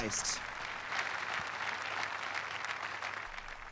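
A congregation at a church service applauds steadily throughout, a dense, sustained wash of clapping with some voices mixed in.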